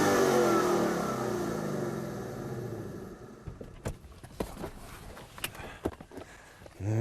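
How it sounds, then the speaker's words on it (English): A Ford Mustang GT V8 fires up with a loud rev that settles back, the engine note fading into a quieter idle broken by scattered clicks and knocks. "Hit the start button and the powerful V8 springs to life."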